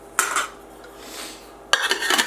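Metal pots and a frying pan from a camping cook set clank together in two sharp bursts of rattling, separated by a short quiet pause, close and alone.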